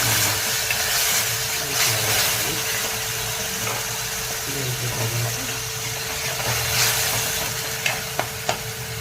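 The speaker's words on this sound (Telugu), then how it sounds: "పచ్చి వాసన పోయేంత వరకు వేయించుకోవాలి" Masala frying in a pan for prawn curry, a steady close sizzle and hiss with occasional stirring scrapes and a few sharp clicks of utensil against pan near the end.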